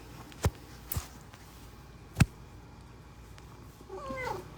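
A cat gives a few short, fairly close meows spaced across a quiet room, the last one drawn out and wavering, with faint soft shuffling in between.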